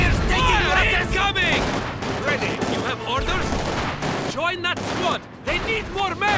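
Rapid gunfire and bursts of shooting in the World War II strategy game Company of Heroes 2, dense and loud, layered under shouted soldier voice lines throughout.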